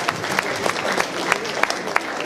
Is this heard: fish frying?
no